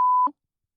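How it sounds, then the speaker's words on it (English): A single steady high censor beep, sharp and clean, cutting off abruptly after about a quarter second, followed by a faint muffled trailing syllable and then silence. "Matt's going to beep that out."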